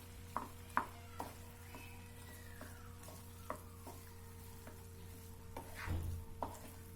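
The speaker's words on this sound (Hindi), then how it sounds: "आलू को मिक्स कर दीजिए मसाले के साथ में और इसको भी भून लीजिए।" Potatoes are stirred with masala in a pan for Kutchi dabeli, a faint sizzle under intermittent scraping taps of a spoon against the pan.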